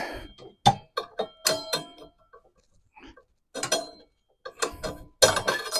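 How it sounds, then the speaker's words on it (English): Metallic clanks and ratcheting knocks in short uneven bursts as a screwdriver levers and shoves a snowblower drive belt onto its pulley, close up with brief quiet gaps between the clatters. "I'm going to put the screwdriver up against it, the belt, lift up, and give it a shove."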